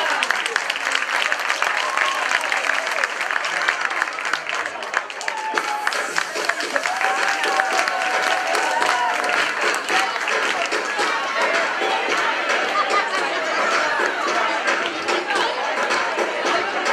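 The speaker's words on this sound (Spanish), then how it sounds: "Un fuerte aplauso para ellos." Audience applauding after a children's dance performance at a Christmas festival, dense steady clapping from a crowd that continues throughout with scattered chatter mixed in.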